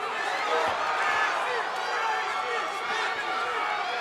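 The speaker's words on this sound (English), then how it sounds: "And listen to this crowd, Mitch. They are coming alive." A fight crowd at Front Street Fights XI cheers and chants for Casey Johnson in a loud, unbroken roar that fills the whole stretch.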